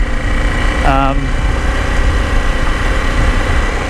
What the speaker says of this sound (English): I like the feel of that engine. It's just so smooth. The parallel twin or inline twin